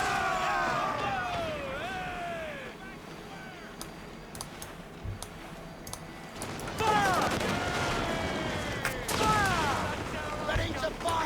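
Ship cannons fire in a naval battle in Assassin's Creed IV: Black Flag, a run of booming, crackling shots spread through the clip under music and ambient battle noise.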